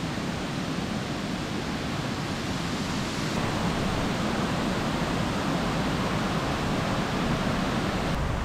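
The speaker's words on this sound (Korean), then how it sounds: "웅장한 수락폭포 소리가 들리기 시작합니다." A steady, powerful roar of falling water, loud and continuous, like a big waterfall heard up close with no voices: Suraksu Falls in Gurye, South Korea, after heavy rain.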